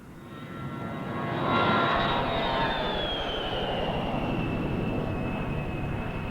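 A Fairchild A-10 jet aircraft flies past with a steady roaring engine and a high whine that rises, peaks, then slowly falls in pitch as it passes, loud and continuous with no talk.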